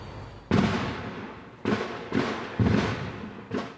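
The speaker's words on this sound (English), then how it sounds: "Flashbangs, the start of SWAT team members moving in on this Kentford Court home." SWAT team flashbang explosions outside a home on Kentford Court in west Raleigh: five sharp, loud blasts at irregular intervals, each with a sudden broadband onset and a short decaying rumble.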